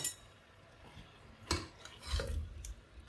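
Soft scraping and clinking of a spoon stirring tomatoes and garlic in a metal pressure cooker, a few brief strokes against a quiet background.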